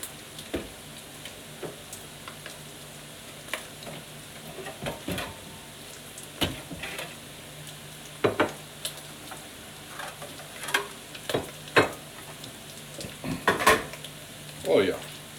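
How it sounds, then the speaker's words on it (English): Bacon, onions and potatoes frying in a pan for breakfast give a steady soft sizzle. Intermittent clinks and scrapes of a utensil against the pan sound near and loud over it, and a voice speaks at times. "Our bacon is coming along. Our onions and potatoes are coming right along."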